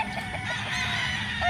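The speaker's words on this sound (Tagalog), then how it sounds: "tingnan natin itong mga manok" Chickens cluck steadily nearby on a large breeding farm in the Philippines, several birds overlapping in a short, continuous stretch with no talk.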